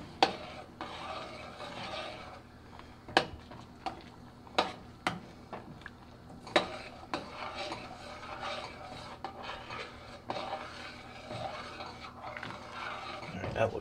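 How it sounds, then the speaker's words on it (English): A spoon scrapes and stirs freeze-dried emergency food in a cooking pot, producing soft rasping strokes broken by sharp metallic taps against the pot's sides, faint and close. "Let's add the rest of this. And we'll stir this in."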